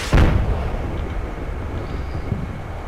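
An artillery fire mission in the war game Combat Mission Shock Force opens with one heavy, booming impact, followed by a long rumbling decay and a faint later thud.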